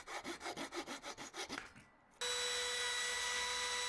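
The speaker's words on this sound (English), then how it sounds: "I'm just routing over with a little bit of a chamfer bit here, just to give it a little bit of detail" A wood router fitted with a chamfer bit shapes the edge of a pine board, beginning with rhythmic rasping passes and then switching to a steady, loud high whine from about halfway on.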